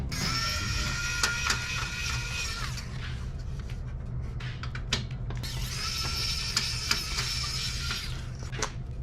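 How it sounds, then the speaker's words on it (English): A Torx T8 driver backs screws out of an Xbox 360 Slim with two stretches of high whirring from a small power driver, separated by light clicks and rattles of handling, close and fairly quiet. "Now we're gonna remove these T8 screws."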